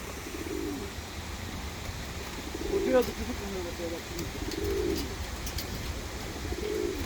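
Tumbler pigeons coo softly in a few low, rolling bursts at a loft, faint and spread through the clip against steady outdoor background noise.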